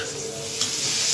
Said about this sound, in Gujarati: મરચાં તમે તેલ મૂકો ને ઓલરેડી મરચાં તળાઈ જાય